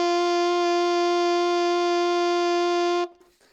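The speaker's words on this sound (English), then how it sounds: "This is the middle D. Here we go." On an alto saxophone with the octave key pressed, a lone middle D rings out steadily for about three seconds before stopping abruptly, leaving only a faint room tail.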